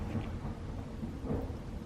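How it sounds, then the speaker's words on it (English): Rain and thunder outside on a chilly day: a steady, low rumbling wash of storm noise with soft rain texture, faint and continuous throughout, with no voices. "It's raining outside, ew,"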